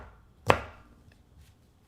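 A single sharp knife chop through onion on a cutting board, loud and close, with a brief decaying tail and faint ticks afterward in an otherwise quiet room.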